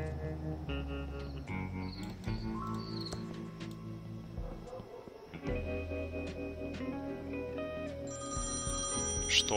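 A battered payphone rings in the point-and-click adventure game Thimbleweed Park, its coin slot glued and cord cut; repeated electronic ringing tones sound over steady game music, loud and close, with no speech.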